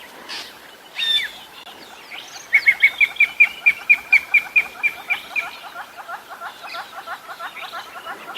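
A drongo calls repeatedly while mobbing a bird, giving a sharp note followed by a fast rhythmic series of clear, whistled chirps, fairly close and loud, then trailing off into softer repeated calls.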